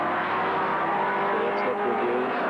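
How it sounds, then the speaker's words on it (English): A race car from the 1978 Hardie Ferodo 1000 endurance race roars steadily past on the circuit, a loud, continuous engine drone with a slight rise near the end. "Goss number 3 car going back behind the pit wall"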